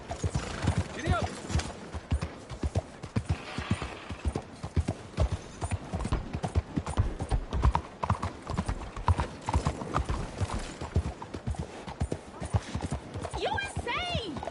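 Horse hooves clip-clop in a brisk, uneven rhythm while ridden, close and continuous, with a whinny near the end and voices talking over the top.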